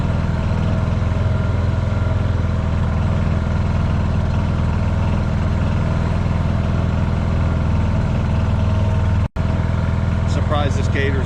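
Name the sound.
old Gator utility vehicle engine idling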